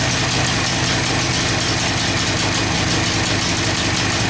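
A Suzuki TU 250 X motorcycle engine running steadily at idle, with a dense, continuous rumble at constant loudness and no revving, as if unable to take throttle.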